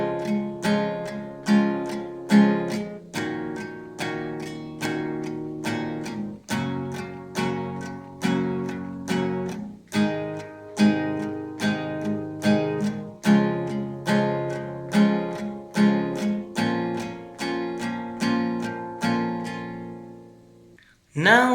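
Acoustic guitar strums the chords of the second verse of a song in a steady repeating strumming pattern, played alone and close, ending with a brief pause.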